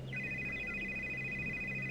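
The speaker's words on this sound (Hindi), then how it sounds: "कोकिला अपने खानदानी पंडित जी को फोन लगाती है।" Telephone ringing as a call is placed, a repeating electronic ring tone with a steady buzzing pattern heard clearly over a quiet background hum.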